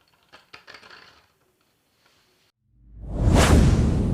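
Beyblade Burst top in a plastic stadium: a few quick metallic clicks and rattles, then silence, then a loud rising and fading swoosh as it spins, close and alone with no talking.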